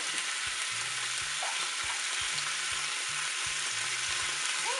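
Pork tenderloin browning in a pan gives off a loud, steady sizzle and crackle that holds unbroken from start to finish, with no voices over it.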